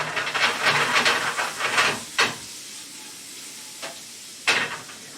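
Beef and vegetables for ramen sizzle and hiss in a hot pan, with bursts of loud sizzling when stirred, then quieter crackling broken by a few sharp scraping spikes.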